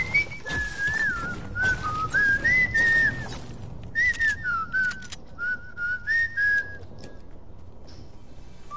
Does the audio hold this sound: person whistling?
yes